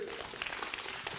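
Audience applause in a hall at the close of a festival finale talk, a steady dense patter of clapping that fills the short moment while a voice speaks briefly over it.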